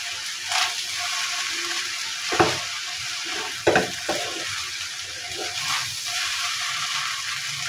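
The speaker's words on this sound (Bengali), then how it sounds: "তো সব কিছু দিয়ে এখন আমি ভালোভাবে নেড়ে দেব।" Shrimp fried rice with scrambled egg and a spoon of sugar is stirred in a pan, a steady sizzle broken by a few sharp scraping knocks of the spatula, close and moderately loud, with no talking.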